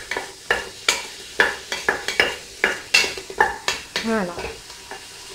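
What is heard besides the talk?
garlic and mushrooms frying in a pan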